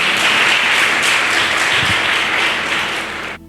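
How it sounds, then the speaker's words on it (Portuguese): A church congregation applauds during a sermon with a thick, sustained wash of clapping that fades slightly before cutting off abruptly near the end. "Você pode aplaudir ao Senhor por isso?"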